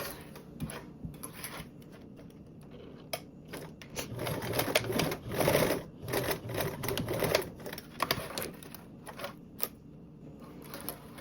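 A sewing machine stitches a seam with a 3/8 seam allowance on a blanket backpack, its needle clattering in rapid bursts that speed up and pause irregularly, close and moderately loud.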